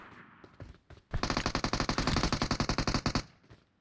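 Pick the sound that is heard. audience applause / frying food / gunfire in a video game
gunfire in a video game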